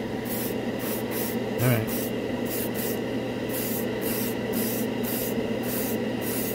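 An airbrush sprays Alclad metal lacquer paint in a run of short, steady hissing bursts with brief pauses between them, and a single word is spoken partway through.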